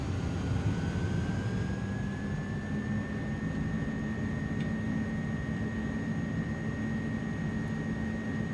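DHL Airbus A300F cargo jet engines spooling up to takeoff thrust, a steady loud roar with a rising whine that levels into a constant tone, heard from the cockpit without talk.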